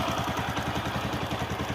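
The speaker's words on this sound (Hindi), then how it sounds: "यहाँ पे जो टिक टिक टिक टिक कर रहा है वो इसका आइडल RPM वाला सेंसर है।" A Honda Platina motorcycle engine idles after a rebuild with a fast, steady, even rhythmic putter and a light mechanical ticking from the idle RPM sensor. It is close and continuous, with no talking.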